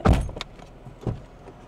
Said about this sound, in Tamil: கதவை திறந்து மூடுறதுக்கு